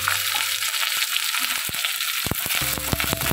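Chopped onion, curry leaves and green chilli frying in hot oil, giving a loud, close crackling sizzle with scattered sharp pops and stirring clatter, and no talking.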